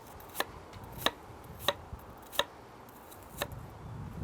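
An onion being sliced finely with a knife on a cutting board, six crisp, evenly spaced chops up close, with quiet pauses between the strokes.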